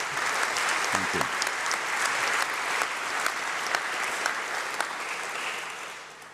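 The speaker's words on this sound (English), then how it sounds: "a round of applause for our governors, for our council" Sustained audience applause in a hall during a university graduation congregation, steady dense clapping throughout that tapers slightly at the end, with no talk over it.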